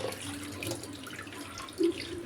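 Cleaned mackerel is rinsed under running tap water, a steady close splashing flow with one brief brighter splash near the end.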